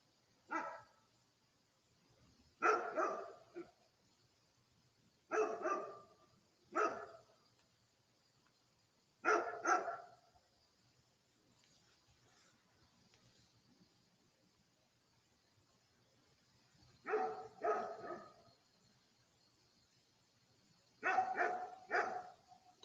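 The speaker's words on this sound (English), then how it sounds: "That's my neighbor's dog in the background." A neighbor's dog barks outside, heard in the background through a quiet room: short clusters of one or two barks repeat at irregular intervals, a long pause in the middle, then more barking near the end, faint with soft insect-like ambience.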